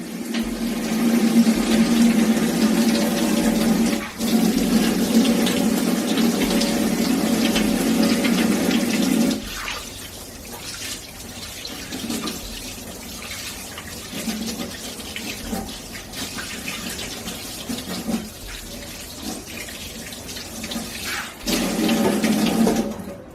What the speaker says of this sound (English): you want to turn on the hot water and the cold water so that it is warm water that you're washing your hands with